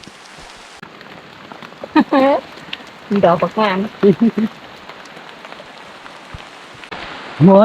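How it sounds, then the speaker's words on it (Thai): Steady hiss of rain falling throughout, with a voice speaking in short bursts over it while picking mushrooms in Phayao, Thailand. "เอาแล้วฝน"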